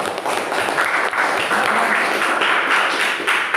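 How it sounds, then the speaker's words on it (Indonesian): Applause from a classroom audience during a social studies lesson, a steady, dense wash of many hands clapping at close range throughout, with no voices over it. "Tepuk tangan dulu dong."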